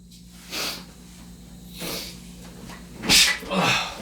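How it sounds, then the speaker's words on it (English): A person sneezes sharply indoors, one short explosive burst near the mic, set among soft breathy sounds and a few quieter snorts or sniffs over a faint low hum. "Oh, God, we sneezed."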